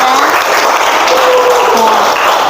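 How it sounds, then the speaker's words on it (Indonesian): A university class applauding during a counseling session, a loud continuous patter of many hands throughout, with faint voices in the background. "Ya, tepuk tangan."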